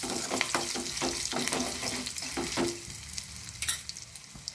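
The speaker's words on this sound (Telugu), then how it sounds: "తర్వాత ఎండుమిర్చి వేసుకున్నాక ఒకసారి కలుపుకోవాలి." Curry leaves and dried red chilies crackling in hot oil for a mango chutney tempering, stirred with a series of quick scraping strokes over a soft sizzle, close up, ending in a sharper clatter, no speech.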